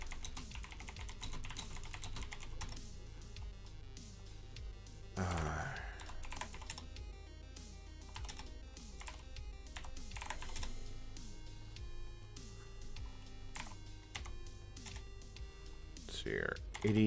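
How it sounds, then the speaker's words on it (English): Rapid bursts of typing on a computer keyboard during work on a PDP-11 UNIX rebuild, steady clicking clatter near and fairly quiet, with a few pauses and a person speaking. "I'll just type it in manually."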